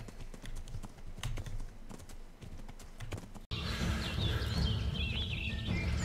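In Kingdom Come: Deliverance, steady clip-clop of horse hooves trotting, first lighter with faint birdsong, then louder and denser after an abrupt cut, continuing throughout.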